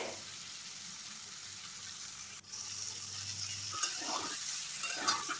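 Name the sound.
jackfruit frying in oil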